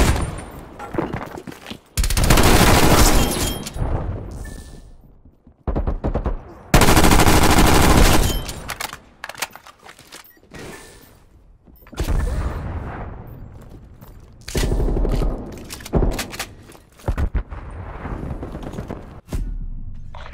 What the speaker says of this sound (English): Sentry turret ready to fire.